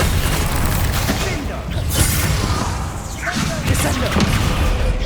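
A Bombarda explosion spell in Hogwarts Legacy booms amid a dense, continuous wash of blasts, whooshes and thuds, loud and layered with battle noise.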